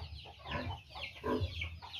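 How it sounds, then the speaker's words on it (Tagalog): Pet chickens clucking in short, repeated bursts at close range, with a couple of louder clucks standing out, over a steady low background hum and no talking. "Yung ating mga alagang manok."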